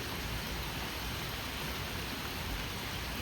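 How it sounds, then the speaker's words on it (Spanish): Heavy rain falling near a swimming pool, a dense, even hiss held steady and fairly quiet for a few seconds with no voices. "Muy bonita la lluvia."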